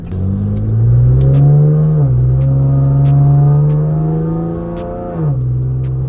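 A V6 Camaro fitted with an 80mm throttle body idles and runs steadily up close, a loud, deep droning rumble that rises slightly in pitch and then settles back down.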